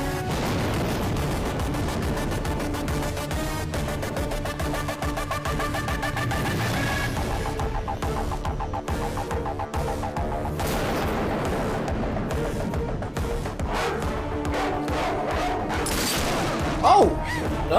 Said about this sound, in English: That's a serious pistol right there.